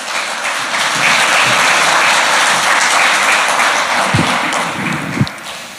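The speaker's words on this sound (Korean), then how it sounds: "우리가 박수로 맞아주시겠습니다." An audience at a Korean Christian prayer gathering applauds to welcome a pastor to the pulpit, a dense, loud wash of clapping that swells and holds steady, with a few thumps near the end.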